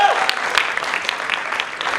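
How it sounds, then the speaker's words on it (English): Audience at a student-made undergraduate show breaks into steady applause, dense clapping from many hands filling the whole moment at close, loud level. "Can we have a big round of applause for them?"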